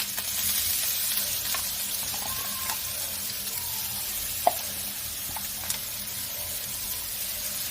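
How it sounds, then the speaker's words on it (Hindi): Ground ginger fries in hot ghee in a home kitchen pan, giving a steady close sizzle with a few small pops and clicks. "अब मैं अदरक को घी में ही भूंज लूंगी, हल्का ब्राउन होने तक इसे भूंजे"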